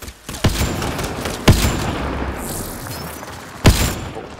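Gunfire in the sci-fi shooter Mass Effect: Andromeda: three sharp, heavy shots land about a second or two apart over a steady background of combat noise and rumble.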